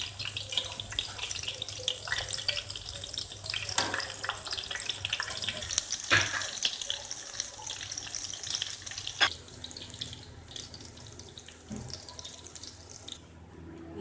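Chicken chapli kebabs fry in a pan with a steady, close hissing sizzle that runs throughout, broken by a few sharper crackles and spatters, with no voices.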